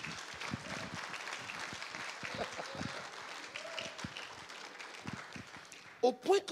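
A church congregation claps through a French sermon, a steady patter of applause under the preacher's voice, with a sharp louder burst near the end.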